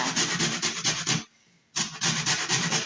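Clementines are zested in quick rhythmic scraping strokes, with a brief pause midway and then more rapid rubbing, close and fairly loud.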